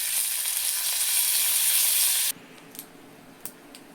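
Curry leaves hit hot oil in a tempering for pesarattu chutney, a loud, steady sizzling hiss that stops abruptly, followed by a few faint clinks and taps.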